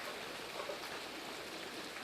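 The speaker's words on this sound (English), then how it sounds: "it's raining out here" Steady outdoor rain falls in a constant wash of hiss and patter, fairly faint and even throughout, with no voices.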